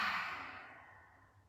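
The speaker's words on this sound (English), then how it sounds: "We'll do a lion's breath" A yoga lion's breath exhale with the tongue out, a single soft, breathy sigh that starts strong and fades away over about a second, close and quiet.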